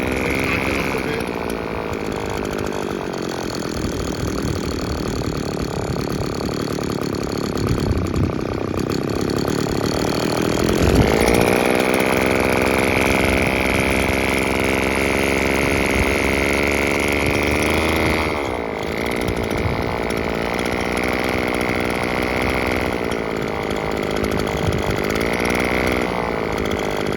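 A Stihl petrol trimmer engine runs continuously for the whole stretch, a steady buzzing drone with slight rises and dips in speed, loud and close, with no talking over it.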